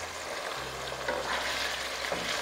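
Mutton, about 300 grams, sizzles and fries steadily in a hot pan, a close, continuous crackle with faint stirring and no voices.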